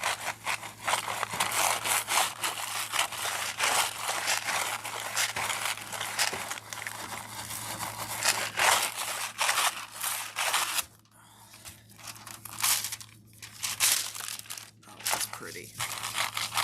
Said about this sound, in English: I have my bigger, heavier duty scrubber here, because I want to make sure I get a nice release.